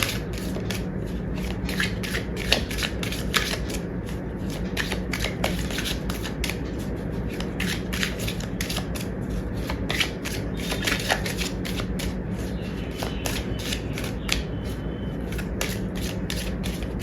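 Tarot cards are shuffled by hand in a long, steady run of quick riffling clicks and flutters, close and fairly loud, with no talking.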